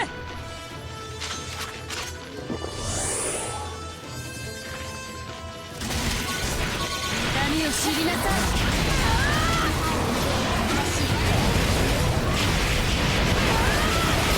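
A stun grenade goes off in the action game God Eater Resurrection amid game music and battle noise, a sudden loud burst followed by a dense crashing, clattering wash of effects.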